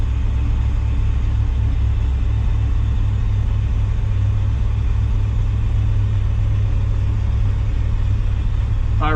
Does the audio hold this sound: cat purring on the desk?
no